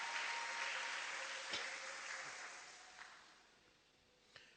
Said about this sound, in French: Acclamez quand même avec vivacité à l'honneur et à la gloire de notre Dieu